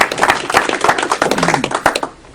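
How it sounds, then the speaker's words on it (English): Audience at a talk on the District of Columbia bursts into loud, close clapping, dense irregular hand claps running throughout before trailing off at the end. "Let's give him an applause."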